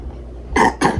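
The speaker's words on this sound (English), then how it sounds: "we don't want no coughing here" A toddler gives two quick, close coughs in succession, short and sharp, while baking.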